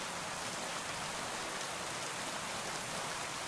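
Steady, dense rain hiss fills the scene in the Kingdom Come Deliverance 2 woods, an even, continuous wash with no breaks and no voices.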